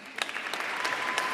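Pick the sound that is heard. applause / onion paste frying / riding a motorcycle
applause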